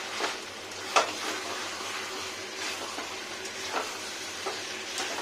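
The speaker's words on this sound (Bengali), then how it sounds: "কষিনি এবার এটা কন্টিনিউ কষাতে হবে পেঁয়াজের মশলাগুলো যেন না পুড়ে যায় সেদিকে খেয়াল রাখতে হবে" Onion spice paste for chicken kosa being stir-fried in a pan, a low steady sizzle broken by scattered scrapes and clinks of a spatula against the metal, with no voices.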